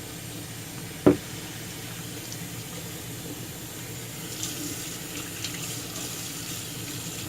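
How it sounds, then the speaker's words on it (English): Water pours and trickles steadily down a Remington 1858 revolver barrel with a soft splashing wash, a single sharp knock near the start, with no voices. "you run that water all down into there"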